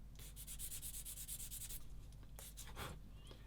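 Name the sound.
soft fine sanding stick sanding a plastic model kit part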